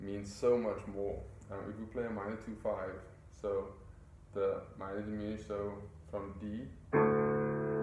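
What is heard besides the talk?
No distinct noise like a dog, phone or traffic.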